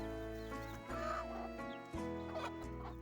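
Free-range village hens with chicks clucking steadily and close by, the calls coming in a continuous run of short bursts with no talking.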